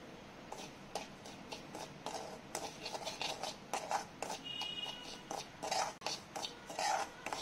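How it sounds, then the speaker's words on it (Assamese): Semolina (suji) being stirred and fried in a spoonful of ghee in a kadai, a rapid series of scraping, rasping strokes of a spoon against the pan, close and fairly quiet with no talking. "চুজিখিনি ইয়াতে মই ভাজিম"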